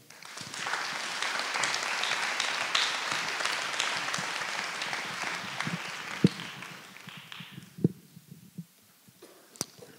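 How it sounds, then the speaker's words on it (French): Audience applause at an evening storytelling gathering, a full burst of clapping that fades out after several seconds, leaving a few isolated claps and low room noise. "Merci d'applaudir Yann"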